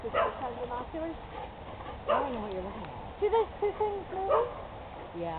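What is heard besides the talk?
dogs barking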